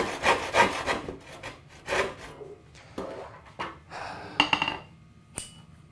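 Rough, rhythmic rasping strokes of a hand saw cutting through wood, close by, in uneven bursts with brief pauses between strokes.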